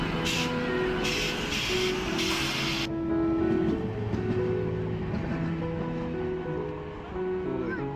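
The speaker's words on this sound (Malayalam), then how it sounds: "ഇത് ഐലൻഡ് എക്സ്പ്രസ് ആണ്" The Island Express passenger train rumbles past on the rails in a steady rolling roar, with rhythmic clatter early on and a voice speaking over it.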